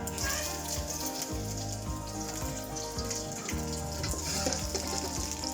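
Onions frying in a hot pan with chili, a continuous bright sizzle and crackle running steadily throughout, close up, with a low hum beneath.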